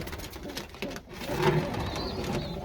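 Racing pigeons in a loft give soft, low coos, a few short calls rising over a quiet background rustle, fairly close and with no one speaking.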